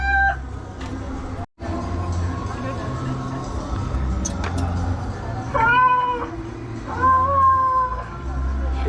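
A person mimics a cat with two drawn-out, wavering meows near the end, heard over steady crowd and street noise at a statue of the Bremen Town Musicians in Bremen, Germany.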